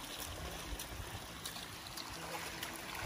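A mountain stream on a steep hiking trail trickles and rushes steadily while someone plays in the water, a constant close wash with faint voices underneath.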